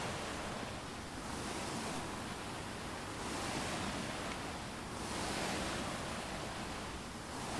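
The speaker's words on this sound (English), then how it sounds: "how I could point it away and back towards the water and kind of create the sound of waves through my" Rolling, wave-like washes of broadband noise, made by swinging a microphone away from and back toward nearby water, swell and fade in slow repeated surges about every second or two, loud and close with a windy rush and no voices.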